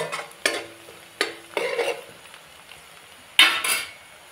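Rice being stir-fried in a pan for a spicy village chicken curry, with a few separate bursts of scraping and sizzling as a spoon turns the grains against the metal, close and clear with no talking.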